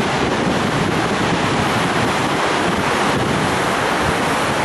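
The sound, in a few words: water rushing down Garrison Dam spillway channel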